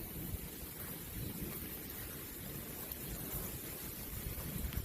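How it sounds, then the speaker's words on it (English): A summer rain shower begins outdoors, giving a soft, continuous broadband hiss mixed with low wind rumble against the microphone, steady and fairly quiet throughout. "it's actually starting to rain pretty good"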